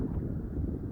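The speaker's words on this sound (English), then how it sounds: "That's some serious wind right there." Strong outdoor wind buffets the microphone in a dense low rumble that fills the whole brief moment, with no other sound breaking through.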